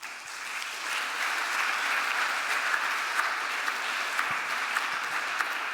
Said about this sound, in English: Big applause for Ed again.